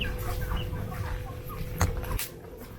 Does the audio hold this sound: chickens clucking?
yes